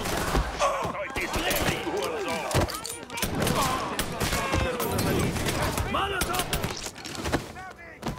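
Gunfire in the video game Mafia 3, dense bursts of rapid shots and thumping impacts throughout, with voices shouting over the shooting.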